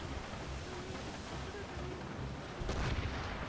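Ship cannons fire in the naval video game Assassin's Creed Rogue, a single heavy boom near the end breaking through a steady wash of sea and wind noise.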